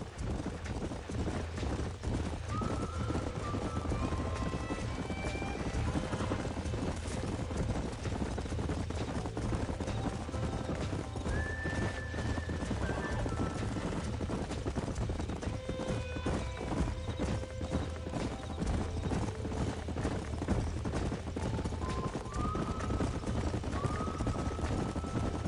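Horses in Red Dead Redemption, on a ranch where a bronco is being broken: hooves clip-clop steadily while several loud neighs and whinnies rise at intervals over a constant background rumble, with no talking.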